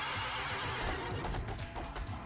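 A horse neighs in Devil May Cry 3: HD Collection on Xbox One X, a brief whinny set within dense, noisy game sound effects, with no speech.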